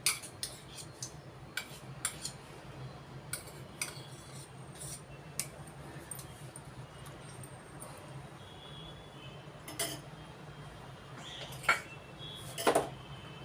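A metal spoon adds ghee to a pressure cooker while cooking vegetable pulao. Faint, scattered clinks and scrapes of the spoon against metal repeat over a quiet background.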